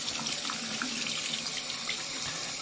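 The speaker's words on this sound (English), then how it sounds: "You can see how it's draining right away right now." Tap water runs steadily into a bathroom sink and drains straight away, a continuous close hiss of flowing water with no pauses and no talking.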